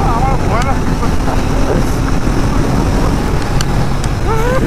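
A Royal Enfield Interceptor 650 carrying a rider and pillion runs flat out in fourth gear, its engine drone steady and loud beneath heavy rushing wind buffeting the microphone throughout.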